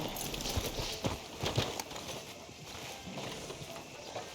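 Horse hooves clip-clop at a walking pace outside a sheriff's office in Red Dead Redemption 2, a steady, fairly close rhythm of hoof strikes over faint ambient town noise.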